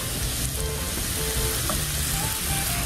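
Flour-coated onion slices frying in hot oil, a dense steady sizzle with crackling bubbles, close and continuous, no talking.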